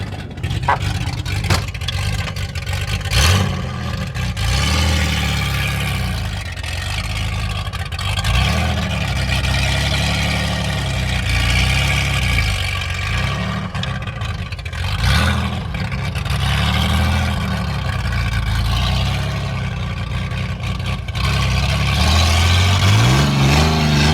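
A car with a power steering leak runs steadily on a drive, its engine droning loud and close with repeated swells as it is revved, ending in a rising rev.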